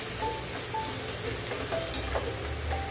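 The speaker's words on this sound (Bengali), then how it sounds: "ভালো করে ভাজা ভাজা হয়ে গেছে, এখন পেঁয়াজগুলো আর এর সঙ্গে মিশিয়ে দেবো ভালো করে।" Onions and spices frying for an elephant yam biryani, a dense, even sizzle close up with faint stirring scrapes running through it.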